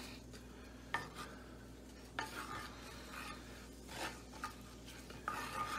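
Minced garlic sizzles softly in butter in a cast iron pan, with a quiet frying hiss broken by occasional scrapes and clinks of a utensil stirring against the metal.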